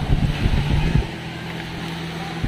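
A low, steady boat engine drone with a harmonic hum, partly obscured by wind and bumping noises in the first second, then running evenly.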